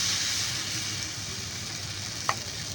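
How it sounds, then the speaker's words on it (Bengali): Batter flatbread frying in a pan with very little oil gives a steady, close sizzling hiss that runs throughout, with one brief sharp click near the end. "এইভাবে আবারও আমি ভেজে নেব"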